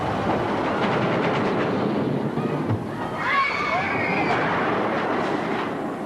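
A roller coaster train rumbles and clatters along its track through a loop, with a brief high whining squeal midway and a rushing roar throughout.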